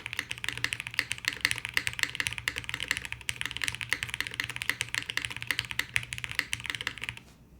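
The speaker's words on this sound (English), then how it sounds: "I think the typing experience, like the sound is super attractive" Rapid, continuous typing on a Bina 103 full-size custom mechanical keyboard, a dense stream of crisp clacky keystrokes heard up close with no talking.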